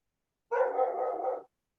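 A dog gives one drawn-out bark or howl-like vocalization, about a second long, fairly close and clear against otherwise silent surroundings.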